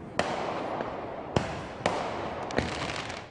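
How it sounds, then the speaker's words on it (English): Fireworks go off during night protests downtown around Fourth of July weekend, with four or five sharp bangs over a constant roar of crowd and street noise at moderate distance. "There were fireworks shooting off and big fires"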